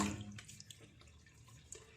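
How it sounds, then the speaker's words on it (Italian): Water poured out during a wet shave with a Gillette Fatboy safety razor, a short splashing run of water with faint drips and clatter, fairly close and alone. "buttiamo l'acqua"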